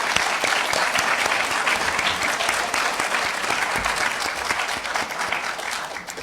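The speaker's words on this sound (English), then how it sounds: "Please join me in giving a round of applause to our candidates." At a chamber breakfast at Thomas College in Maine, the room gives political candidates a full, sustained round of applause, thick and even throughout before slowly easing off.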